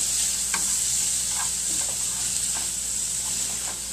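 Mahi fish frying in a hot pan at medium-high heat, a steady loud hiss of sizzling oil with a few faint clicks of stirring, no voices.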